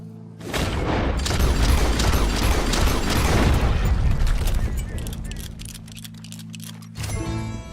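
Loud gunshot blasts while hunting in Red Dead Redemption 2, a dense burst of booming shots with crackling decay, followed by quieter mechanical clicks and a renewed burst at the end.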